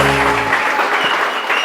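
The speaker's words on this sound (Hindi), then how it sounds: "ऑलराइट जी, बहुत सारी तालियां इनके लिए।" Dense, steady applause from a studio audience on a Hindi-language TV morning show, loud and continuous throughout with a brief musical tone fading out at the start.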